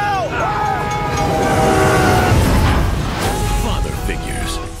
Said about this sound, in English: there's a motherfucking train coming